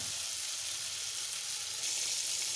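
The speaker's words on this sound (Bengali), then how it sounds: "মাছটাকে ম্যারিনেট করে রেখেছিলাম, দিয়ে দিলাম" Marinated tilapia fish frying in a pan gives a steady, even hiss of sizzling oil, fairly quiet and close, with no talking.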